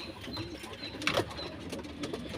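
Pigeons of the Bazra line coo softly in a loft, the faint low calls set against steady background hum, with a brief brighter rustle near the middle.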